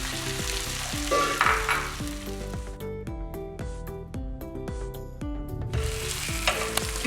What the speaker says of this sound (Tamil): இப்போ தேங்காய் எண்ணெயில் சும்மா லைட்டாக நம்ம வந்து ஃப்ரை பண்ணி எடுத்துக்கலாம்.